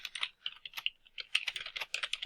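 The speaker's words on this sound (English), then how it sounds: "so I would start typing." Steady typing on a computer keyboard, a dense run of close, crisp key clicks with brief pauses between bursts, no voices present.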